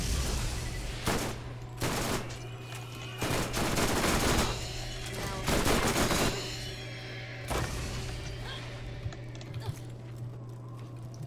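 Sniper rifles fired from the hip in Borderlands boom out in a series of heavy, irregular shots over a steady low game hum and ambient noise.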